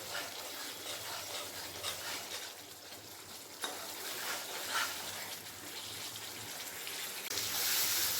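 Spice masala frying in a pan for a paneer dish, a soft, steady sizzle with occasional stirring scrapes, faint and continuous.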